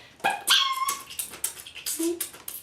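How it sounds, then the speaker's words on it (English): A puppy from a sound effects game whimpers and yips in a quick run of high, squeaky cries and short barks, fairly close and moderately loud, with a few faint voice sounds mixed in. "I didn't know that was a puppy"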